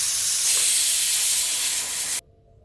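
A pressure cooker cooking ghee rice vents steam in a loud, steady hiss that runs for about two seconds and then cuts off abruptly into near silence.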